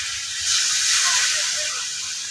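Water poured into a pan of frying chicken curry made with tough free-range country chicken, giving a swelling steamy hiss that peaks and then settles over about two seconds.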